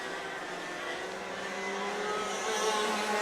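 Racing karts run on a Southern California track, their high-pitched engines whining together in a sustained drone that swells slightly as they draw nearer.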